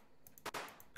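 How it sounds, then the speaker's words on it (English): A couple of sharp gunshots ring out during a police roleplay game set in Köln, Germany: two loud bursts close together near the middle, with fainter cracks around them against a quiet background. "Oh, whoa, we're getting shot at. We're getting shot at."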